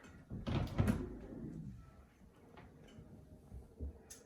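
Closet double doors in a home open with a short burst of knocking and rattling, followed by faint creaks and soft clunks, close by and quiet.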